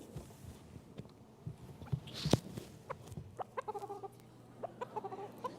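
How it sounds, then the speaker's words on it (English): A white-crested black Polish bantam rooster clucks in short, scattered bursts close by, with a few sharper calls over a quiet room background. "He's a white-crested, black Polish bantam rooster"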